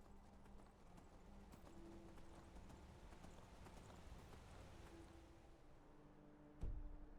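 Horse hooves clip-clop steadily in Skyrim as a rider sets off, a quiet, even gallop rhythm with a soft thud near the end.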